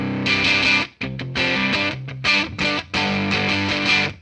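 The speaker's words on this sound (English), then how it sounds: "That's more of a drive sound than a fuzz sound." An electric guitar plays a quick chordal riff through a Caline CP-32 Clear Veil overdrive/fuzz pedal set for mild drive, the chords crunchy and choppy with brief gaps, close and loud without speech.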